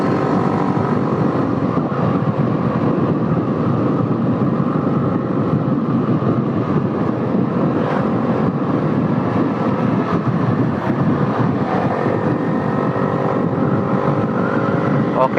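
A motorcycle on a Saturday night ride after refuelling gives a steady, loud engine drone with wind rush that holds constant throughout, heard close from the rider's position.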